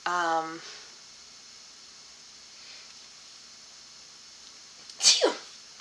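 A single sharp sneeze bursts out near the end, loud and close, after a short stretch of quiet room tone following a brief vocal sound at the start.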